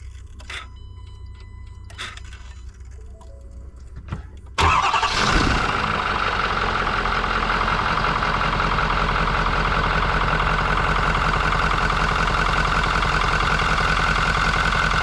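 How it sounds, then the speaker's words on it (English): A few faint clicks, then a Ford 6.7 Powerstroke diesel pickup truck with a clogged CCV filter cranks and catches, settling into a steady, loud diesel idle that runs on unchanged. "we're gonna try restarting this truck"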